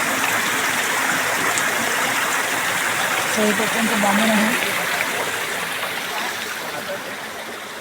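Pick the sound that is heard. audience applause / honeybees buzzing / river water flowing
river water flowing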